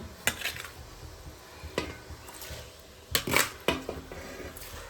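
Rice flakes (ada) dropping into jaggery syrup in a cooking pot for Vishu ada pradhaman, giving sharp clinks and scrapes of utensils against the pot, in short separate bursts between quieter stretches.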